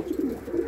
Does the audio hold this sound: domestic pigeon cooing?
yes